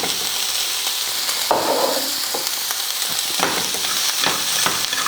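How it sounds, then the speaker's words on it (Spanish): Squid and carrots stir-fried Korean style in a pan over a gas stove, a steady loud sizzle running throughout with repeated scraping stirs, close up and without speech. "Seguimos salteando, moviendo."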